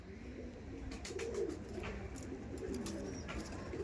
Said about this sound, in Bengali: এই দেখুন, এই যে পায়রাটা